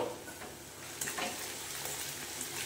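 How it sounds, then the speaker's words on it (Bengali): Sliced onions frying in a pan for a soybean and vegetable dish give a steady, soft sizzle throughout, with a few faint clinks and stirring touches. "এইবারে পেঁয়াজটা আমি ভাজবো"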